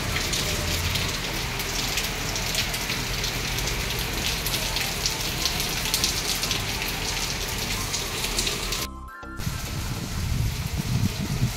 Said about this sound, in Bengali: আর এই দেখো বৃষ্টি শুরু হয়ে গেছে।